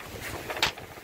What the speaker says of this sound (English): wow, did it get windy.